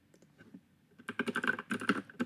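Rapid typing on a computer keyboard while entering localhost as a server address: a quiet start, then a dense, close burst of crisp key clicks with uneven rhythm and no talking.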